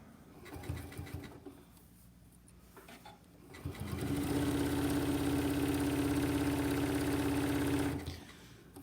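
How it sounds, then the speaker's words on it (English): A sewing machine stitches a fall-leaves placemat. A few short bursts are followed by a steady, even run of rapid stitching that stops abruptly near the end, close and moderately quiet. "I need to go one more stitch so you can see what I'm doing."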